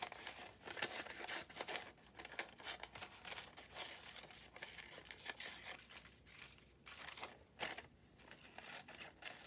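Paper images torn roughly for a collage, heard as close, faint rustling, crinkling and ripping in irregular bursts.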